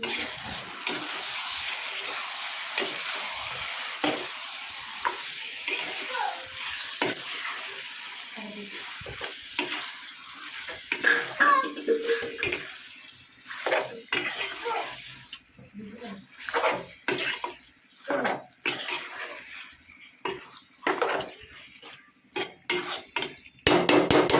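Chicken being stirred in a cooking pot, with irregular scraping, clinking and wet sizzling bursts that grow louder and choppier toward the end, close up, with no talking.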